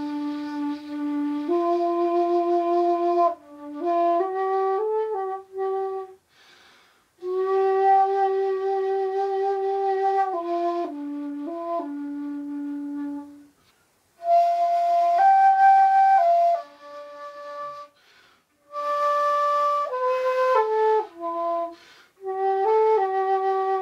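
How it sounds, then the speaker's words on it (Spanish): A Japanese bamboo shakuhachi flute plays a slow, breathy melody of sustained tones in phrases separated by short pauses, close and moderately loud, with no other sounds. "El shakuhachi suena así."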